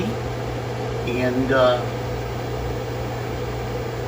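A 600 watt Commercial Chef microwave oven hums steadily while cooking on solar battery power, with a constant mid-level drone throughout and a brief spoken word partway through.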